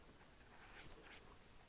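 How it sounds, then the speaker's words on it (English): Pencil shading on paper while drawing a still life: faint, soft scratchy strokes in a couple of brief bursts over a quiet background. "Slant your pencil"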